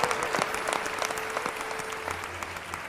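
Audience applause at a live Hindu devotional talk on Ram, a sustained crowd of clapping with crisp individual claps standing out, fairly even in level and gradually easing, with a faint steady hum beneath.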